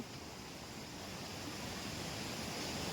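Steady rushing water of the Ganga river at Gaurikund, a continuous broadband roar of flowing water, moderately faint and unbroken, with no voices.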